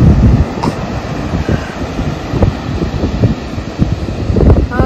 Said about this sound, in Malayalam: ആ തിരമാലയൊക്കെ നോക്കി എന്ത് പൊക്കത്തില വരുന്ന നോക്കി.